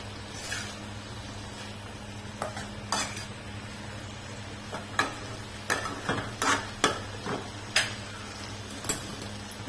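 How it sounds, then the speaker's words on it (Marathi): Masala bhindi (okra) with crushed peanut powder being stirred in a pan, a spoon scraping and clinking against the metal in sporadic bursts over a faint low hum, close and moderately quiet. "दमाने हलवून घ्यायचं, म्हणजे आपण सुटणार नाही भेंडी"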